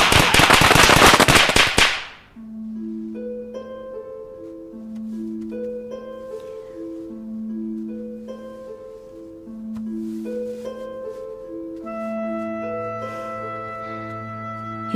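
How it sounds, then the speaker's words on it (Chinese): A loud, dense crackle of firecrackers bursts for about two seconds at New Year, then cuts off as gentle melodic music continues alone. "爆竹一声辞旧岁"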